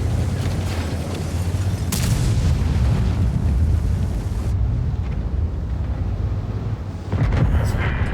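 Tank cannon fire in World of Tanks, with a Type 5 Heavy trading shots with a KR-1: deep booming blasts over a constant heavy battle rumble, with a commentator talking over it.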